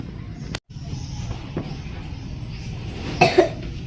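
A child with a cold gives a sharp cough at a weekend game, followed by a fainter cough and a brief double cough later over a murmur of background noise.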